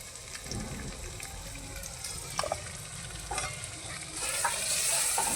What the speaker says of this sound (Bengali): এখন মশলাগুলোকে ভালোভাবে নাড়িয়ে নেব।